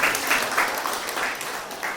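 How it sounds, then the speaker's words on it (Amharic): A congregation applauds a graduate at a graduation gathering, with dense, steady clapping from a crowd that swells in short waves. "አጨብጭቡላቸው እስቲ ሁላችሁም።"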